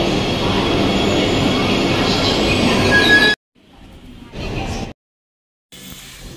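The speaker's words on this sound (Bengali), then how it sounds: "আমরা তো বন্দে ভারত ট্রেনে চেপে পড়েছি" Vande Bharat train running, a loud steady rumble and roar for about three seconds, then abrupt cuts to quieter interior stretches with a brief swell of noise.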